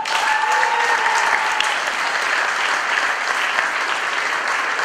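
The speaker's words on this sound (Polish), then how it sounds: "po prostu dostałeś największe brawa" A concert audience claps in sustained, dense applause, loud and even throughout, with a faint voice or whistle briefly audible early on.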